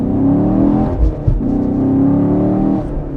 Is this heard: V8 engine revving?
yes